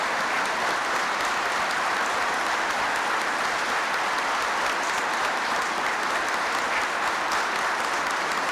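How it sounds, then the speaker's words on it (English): Sustained applause from a crowd at a Veterans' Day ceremony honoring World War I veterans, a loud, even, continuous roar of clapping with no talk over it. "I know that applause is for all World War I veterans."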